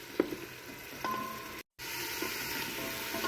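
Potatoes and masala fry steadily in ghee in a pan for an aloo gobi dish, a continuous soft sizzle with a few small clinks of stirring and a brief dropout midway; no one speaks.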